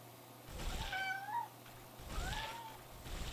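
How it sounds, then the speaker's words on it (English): Two drawn-out house cat meows, the first around the one-second mark and a second one shortly after, fairly close over a low steady background hum of a computer game session. "If you can hear that meow, that's my cat."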